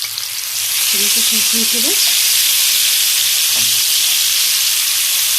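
A mixture of spinach, garlic and chili frying in oil in a pan gives a loud, steady, close sizzling hiss throughout; a person talks briefly over it near the start.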